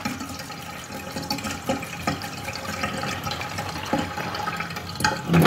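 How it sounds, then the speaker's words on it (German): A home reverse osmosis water filter system running, with water flowing and splashing into a container in a continuous rushing wash and a louder surge at the end, no talking. "jetzt mache ich die Osmoseanlage an"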